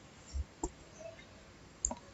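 A computer mouse clicking while settings are applied in a Windows control panel, three or four sharp, isolated clicks spaced unevenly across a quiet background.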